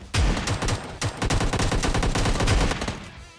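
Shotgun blasts in a video game, a rapid run of loud, close booming shots with barely a pause between them and no voices.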